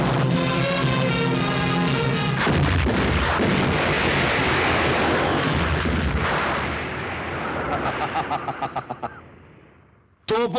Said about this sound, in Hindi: तोपों की गूंज सुनो उल्मा।